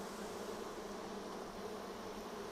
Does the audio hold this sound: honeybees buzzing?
yes